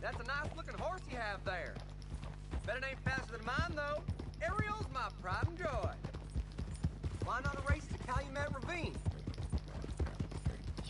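A galloping horse in the video game Red Dead Redemption 2 beats out fast, even hoof thuds beneath near-continuous speech from a man.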